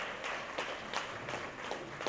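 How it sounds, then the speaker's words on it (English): Audience at a Black history and culture celebration program clapping in a dense, fairly faint burst of applause that continues steadily throughout. "Yeah, you can clap that up."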